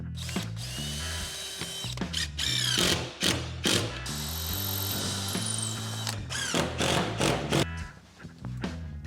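A power drill drives screws through furring strips into the wall of a post-frame building, its motor whirring in steady bursts with ratcheting clutch clicks and short pauses, close and loud throughout.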